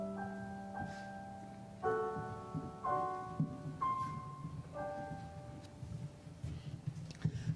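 Gentle piano music for a silent-movie love scene, quiet sustained chords changing every second or so in a slow, tender rhythm, faint and somewhat distant over a low background murmur.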